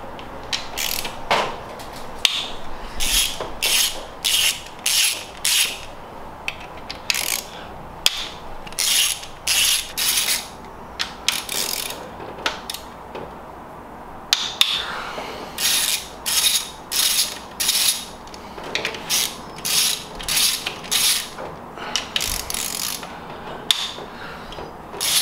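A ratchet works camshaft bolts loose on a GM Ecotec engine, giving crisp, rapid clicking bursts that start and stop repeatedly, each short run of pawl clicks close and clear over a quiet background with no talking.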